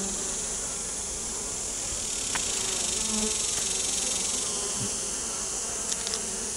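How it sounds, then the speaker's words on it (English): A dense swarm of honey bees drones continuously at a top bar hive during comb work, loud and close, with a few faint knocks and handling sounds underneath. "now shake the bees off into the hive"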